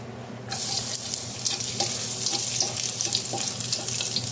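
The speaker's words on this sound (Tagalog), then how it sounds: "Gigisa tayo ng bawang," Garlic sautéed in a hot pan as the base for ginataang sigarilyas hits the oil after a brief silence, then sizzles steadily and loudly, with faint stirring clicks, and no voices.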